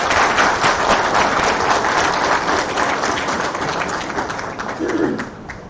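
A hall audience applauds after a call to honour a professor's opening address at a medical conference on obesity. The clapping is dense and sustained, then thins and fades near the end.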